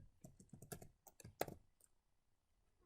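Fingers type quickly on a computer keyboard, a close burst of crisp clicking keystrokes that trails off into near silence with one last tap at the end.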